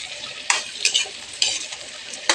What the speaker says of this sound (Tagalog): Kapalo po ng kanin, piprituhin natin yan para sabay-sabay.